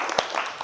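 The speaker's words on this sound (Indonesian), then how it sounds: "Tepuk tangan untuk kita semua." A class of students applauding together at the end of a biology lesson, a brief burst of mixed clapping with one sharp near clap and a voice faintly underneath.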